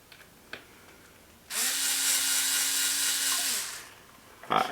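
A power tool whirs in one steady burst of about two seconds, driving stainless bolts into the chassis of a Senton 3S. Quiet handling noises come before and after it.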